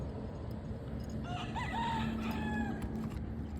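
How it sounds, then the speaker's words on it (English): Roosters crow several times in the background during outdoor roof shingle repair, their drawn-out calls rising over a steady bed of ambient noise, with no talk. "The roosters are not happy with our work."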